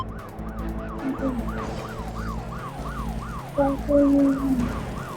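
Wailing police siren from the Smashy Road video game, a repeated rising-and-falling whoop over a steady engine drone, loud and close, with brief game tones near the end and a word spoken once.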